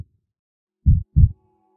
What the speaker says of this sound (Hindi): मेरे को अगर कुछ सुनाई दे रहा था तो वो बस अपने दिल की धड़कने की आवाज़